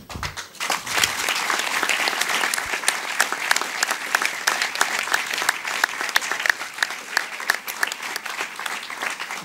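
Sustained audience applause at a public event for truth and justice for Giulio Regeni, a dense steady wash of many hands clapping that carries on loudly for the whole stretch after a brief opening.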